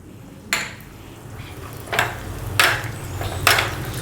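Raisins fry in ghee in a pan for North Karnataka Biranji rice, with a steady sizzling hiss broken by four sharp clanks of the stirring spoon against the pan.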